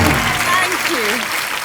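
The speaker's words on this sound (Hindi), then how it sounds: "जोरदार तालियां मनीषा जी के लिए एक बार।" Studio audience applause on a Hindi comedy talk show welcoming a guest, a steady wash of clapping with a voice speaking over it.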